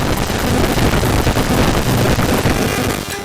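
Bluetooth wireless transmission rendered as audio, a dense, loud roar of crackling, rushing noise with rough fluctuations, continuous throughout and easing off slightly at the end.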